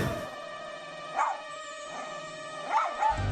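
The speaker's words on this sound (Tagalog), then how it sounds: "Walang baril kaya't gumaganti ng tahol ang aso." A dog barks back in a few sharp yips at a crawling toy Spider-Man holding a toy gun, the short barks loud and close over a quiet indoor background.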